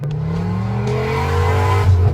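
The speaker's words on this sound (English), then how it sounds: "The 1977 Audi 100 was the first production 5-cylinder petrol engine in the world" A 1977 Audi 100 with its five-cylinder petrol engine holds a steady, smooth drone that rises gradually in pitch as it revs up, loud and close, heard alone.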